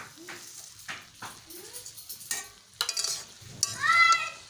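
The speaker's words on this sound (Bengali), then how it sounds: "এবার মশলা ভালোভাবে মিশিয়ে নেব।" Spoon stirring through jujube (kul) pickle as spices and dried chili are mixed in, a soft scraping and squelching with a few sharper clinks near the end, close and moderately quiet.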